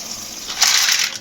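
Water is poured into a pot for cooking macaroni, a short hissing gush that swells for under a second, close and fairly loud.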